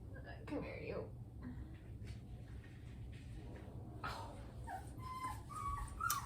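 A three-week-old Bernese Mountain Dog puppy whimpers in thin, high whines that come and go near the microphone while people talk.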